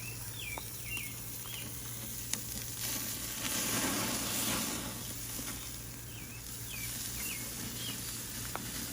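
Chicken thighs sizzle on an outdoor grill in a steady, moderate crackle. Birds chirp intermittently in the background and a low hum runs underneath.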